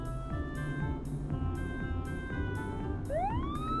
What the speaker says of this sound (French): Voici une voiture de police.